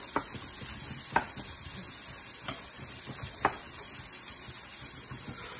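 Stromboli filling fries in a pot with a faint, steady sizzle and hiss, broken by a few soft clicks of a spoon breaking up the meat; no speech.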